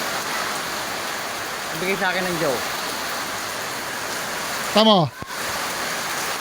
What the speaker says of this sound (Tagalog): Malakas ang ulan, kita?